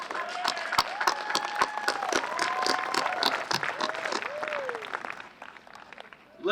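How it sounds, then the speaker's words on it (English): An outdoor crowd at a Little League event claps for the team, a dense steady applause with some cheering and voices mixed in that fades toward the end. "You can clap for them, they deserve it."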